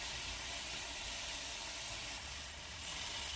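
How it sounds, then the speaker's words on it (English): Enoki mushrooms grilling in cooking oil in a pan over medium heat, giving a soft, continuous sizzling hiss with no breaks. "Put some cooking oil on the pan over medium heat and grill enoki mushroom."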